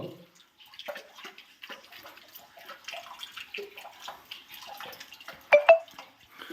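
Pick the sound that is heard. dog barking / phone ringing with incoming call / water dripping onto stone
water dripping onto stone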